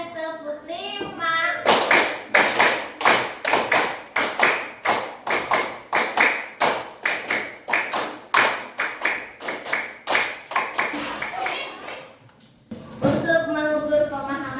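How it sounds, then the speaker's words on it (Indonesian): A classroom of children clapping a five-beat rhythm pattern, with rapid loud claps in repeated bursts from many hands. Voices are heard briefly before and after the clapping. "Sekarang coba 5 kali tepuk 5."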